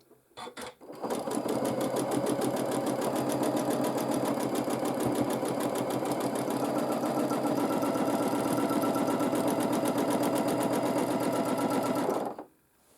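A domestic sewing machine runs steadily for about eleven seconds during free-motion quilting of a quilt sandwich along wavy diagonal lines, with a loud, even, fast needle hum and no talking.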